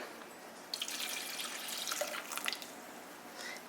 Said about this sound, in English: you are going to add the water to your pan.